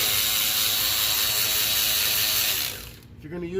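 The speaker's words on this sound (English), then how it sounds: "we're just going to use this trusty long 1/4 inch ratchet" A long 1/4 inch ratchet clicks steadily while turning a fitting on a 7.3 IDI diesel injection pump, a close, dense ratcheting rattle that stops abruptly near the end.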